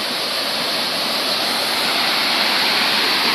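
Steady roaring rush of Thanto waterfall (Namtok Than To) in Yala, Thailand, a dense continuous wash of falling water that fills the whole clip at an even, loud level with no voices.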